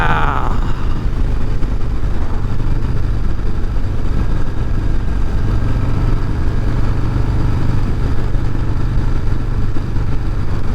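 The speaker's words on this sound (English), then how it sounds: "But man, this engine is pretty powerful" A 2026 Harley-Davidson Breakout's engine runs loud and close during a group ride, a steady low rumble with mechanical clatter, holding an even drone throughout with no voices.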